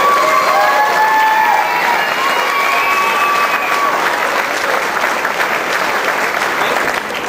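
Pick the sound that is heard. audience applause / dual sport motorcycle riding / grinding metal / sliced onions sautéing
audience applause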